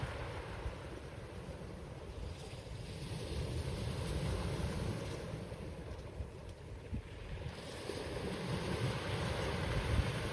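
Sea waves wash continuously onto a pebble beach under a grey, rainy sky, a broad, steady rush of surf with wind noise on the microphone and no talking.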